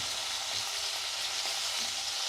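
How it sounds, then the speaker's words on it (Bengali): Sliced onion frying in hot oil, a steady dense sizzle with faint crackles running throughout, close and even, with no voices. "ফালি করে কেটে রাখা পেঁয়াজটিকে এর মধ্যে দিয়ে ভেজে তুলে নেব।"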